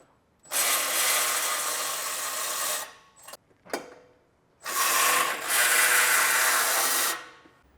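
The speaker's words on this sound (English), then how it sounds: "we're going to get down there with a wrench or a socket and ratchet" A socket and ratchet removing 14mm nuts on a Tacoma crash bar, heard as two long, close stretches of rapid, rasping ratchet clicks separated by a brief pause with a few isolated clicks.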